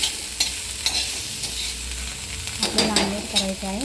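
Chopped onion and green chili sizzle in a pan for an omelette, with a spoon stirring and scraping in a rhythmic pattern; someone speaks briefly over the frying near the end.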